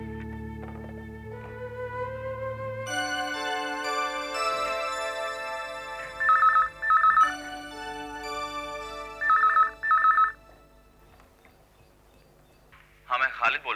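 An electronic telephone ringer sounds in two paired bursts over a sustained musical backing in a Hindi TV drama, with a short tone chirp near the end.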